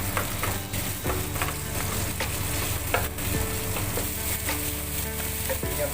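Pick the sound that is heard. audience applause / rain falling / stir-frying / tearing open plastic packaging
stir-frying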